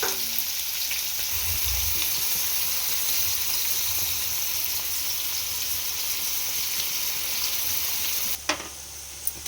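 Onions hitting hot oil with cumin and mustard seeds, a loud, steady sizzle and crackle of frying that runs throughout, with a brief clatter near the end.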